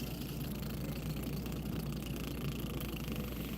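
Car engine from the video game Final Fantasy 7, a steady droning mid-range hum with constant low rumble that holds throughout without change, fairly loud and alone with no talking.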